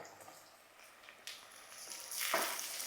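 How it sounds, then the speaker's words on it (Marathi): Tomato fries with onion and curry leaves in a pan for matki rice: a soft, low sizzle with a few stirring scrapes, swelling a little louder toward the end. "टॉमॅटो आपल्याला थोडासा नरम करून घ्यायचा आहे"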